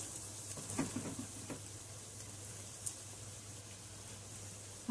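Onion frying in oil with ginger and garlic for chicken biryani gives a faint, steady sizzle with a few soft clicks and light stirring, and no one speaks.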